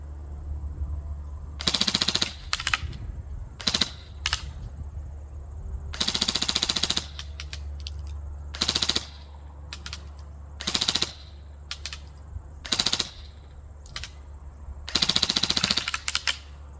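A Classic Army Nemesis X9 airsoft gun fires on full auto in repeated short bursts, each a rapid mechanical rattle, separated by pauses over a constant low motor hum outdoors.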